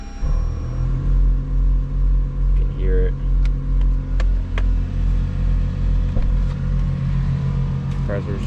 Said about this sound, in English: Compressor's just turned on.